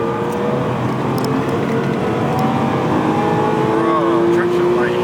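A BMW E46 M3 accelerates hard into a corner with its engine roaring loud and steady, heard from inside the car while voices talk over it.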